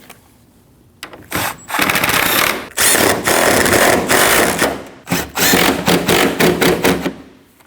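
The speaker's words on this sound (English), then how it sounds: "Now you can install your 3 10mm bolts. And tighten all 3." A power tool, likely an impact driver, tightens 10mm bolts on a 2013-2019 Ford Escape 1.5L in several loud, rattling bursts separated by brief pauses, heard up close with no talking.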